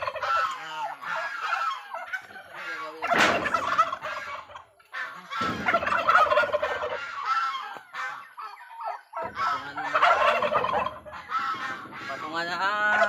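Large turkeys gobbling repeatedly in loud, close bursts of overlapping calls at a farm, with brief quieter gaps between the rounds of gobbles.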